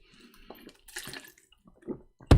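Water being poured: faint intermittent trickles and gurgles, ending in a louder, close splash as the pour lands, with no talking.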